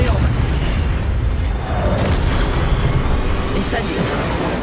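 A loud, dense burst of magical spell effects in the Hogwarts Legacy video game as Expelliarmus is cast, a steady wall of booming, crackling energy filling the whole moment without pause.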